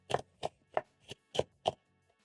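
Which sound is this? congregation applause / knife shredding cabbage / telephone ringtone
knife shredding cabbage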